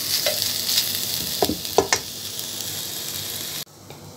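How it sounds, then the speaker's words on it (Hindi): Chicken hot dogs frying in masala in a pan, a steady hiss with a few brief scrapes of stirring, then the sizzle drops away sharply near the end. "1-2 मिनट सिर्फ इसी मसाले के अंदर हम लोगों को फ्राई करना है।"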